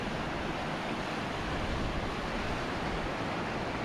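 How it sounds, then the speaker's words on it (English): Whitewater rafting river rushing along the Appalachian Trail, a steady broadband roar of flowing water with no breaks, fairly close and constant throughout, no voices over it. "The famous whitewater rafting river."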